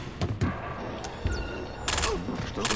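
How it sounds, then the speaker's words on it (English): Several sharp gunshots crack in a short burst in the video game Splinter Cell: Blacklist, with a thump and some brief rattling in between, set against a busy, noisy background. "Gunfire!"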